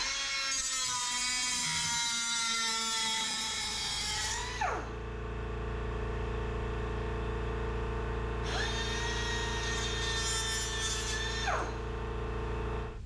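A McGraw 3-inch air cut-off tool powered by a 20-gallon air compressor cuts through an 8mm fastener, a loud high-pitched pneumatic whine that bogs under load, drops as the wheel spins down, then revs up again for a second cut.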